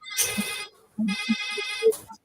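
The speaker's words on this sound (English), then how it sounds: "Oh, the phone is ringing." A telephone rings with a bright, electronic tone in two close bursts, loud and near, with a short pause between them.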